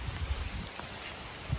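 Steady rain patters on the ground during a mountain trek to the Bhimashankar temple, a continuous wash of drops with a few louder close splashes, no talking.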